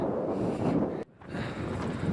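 Strong wind gusting across an exposed mountain summit in cold weather, a low rumbling buffet on the microphone that cuts out abruptly for a moment before resuming.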